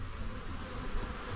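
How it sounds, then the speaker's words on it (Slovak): Wild bees buzz around entrance holes to hives hidden under marble, a steady, dense hum with no pauses, close and fairly quiet, with no speech. "Takže divé včely tu žijú."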